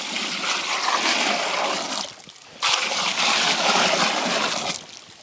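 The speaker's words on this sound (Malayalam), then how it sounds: "പാല് നമ്മളിത് ഈ ഉരുളിയിലേക്ക് ഒഴിച്ച് കൊടുക്കുകയാണ്" Milk poured into an uruli, a traditional cooking pot, for pradhaman, a steady continuous splashing pour heard close up that breaks briefly midway and then resumes.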